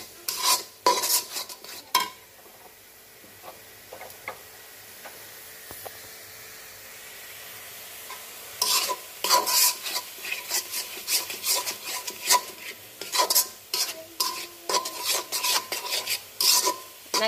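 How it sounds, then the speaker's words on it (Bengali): Grated coconut is stirred and fried in a pan for a baim fish curry, with repeated rasping spatula scrapes in close, rhythmic bursts. A quieter stretch in the middle carries only a faint sizzle before the vigorous scraping resumes. "এই নারকেলটাকে ভালো করে কষিয়ে নিই।"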